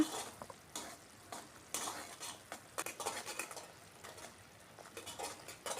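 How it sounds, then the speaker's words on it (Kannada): Jaggery syrup boiling in a pan, heard as faint bubbling and crackling with repeated scraping stirs and utensil clinks coming in irregular bursts, with no voices. "ಈಗ ಬೆಲ್ಲ ಕುದೀತಾ ಇದೆ"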